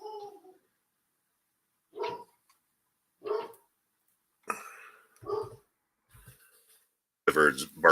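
A dog barks in short separate bursts at a road paving crew outside, a few sharp yaps spaced a second or so apart, followed by a louder, fuller bark at the end.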